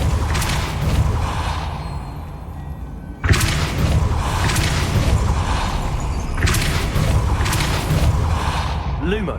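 A Depulso force spell cast in Hogwarts Legacy, a sharp booming thump that lands abruptly midway over a constant mechanical rumble, with a voice heard beneath.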